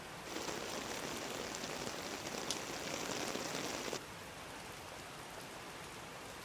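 Steady heavy rain pours down in a dense, even hiss that fills the first four seconds, then drops to a softer, quieter patter for the remainder.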